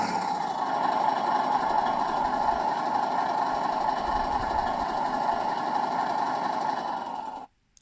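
Simulated engine sound from a 3D printed RC Komatsu HM300-5 dump truck, a steady droning idle with a buzzing mechanical tone holding evenly and loud for about seven seconds before cutting off abruptly.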